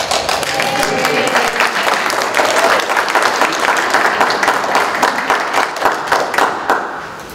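Council meeting attendees in a village hall break into applause after a roll-call vote, a loud, full burst of many hands clapping close by that holds steady and then tapers at the end, with no speech over it.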